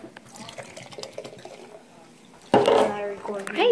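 Energy drink poured from a can into a glass, a sudden loud gurgling splash that starts partway through after quieter handling noise and runs to the end, close up.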